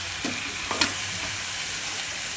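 Mutton pieces going into hot oil in a kadai give a steady close sizzle, with a few soft clatters as they drop in, and the frying hiss carries evenly throughout.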